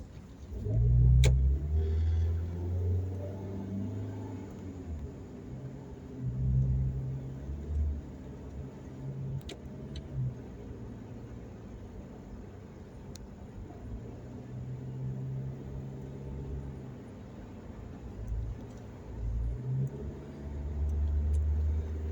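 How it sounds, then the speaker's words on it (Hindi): A Toyota Rush with 48,000 km on it drives through morning traffic in Saudi Arabia, its engine humming low inside the cabin with rising and falling swells as it accelerates and slows. "मैं जो गाड़ी लेके जा रहा हूँ, ये गाड़ी टोयोटा कंपनी की है और इसका नाम है टोयोटा रस"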